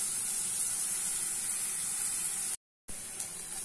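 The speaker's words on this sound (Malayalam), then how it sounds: "അരിഞ്ഞിട്ടിരിക്കുന്ന സവാള ചേർത്തൊന്ന് നന്നായി വഴറ്റുക" Chopped onions sauté in a pan, a steady close hiss and sizzle that cuts out briefly near the end before resuming.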